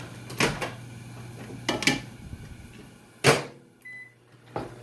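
Several clunks and clicks of a microwave oven door being handled in a kitchen while hamburgers cook, with a short electronic beep in between, against a low steady hum.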